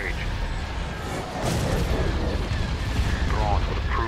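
Starship weapons fire in the Star Wars strategy mod Thrawn's Revenge, a dense rumbling barrage that swells and keeps rolling, with a faint voice heard over the battle.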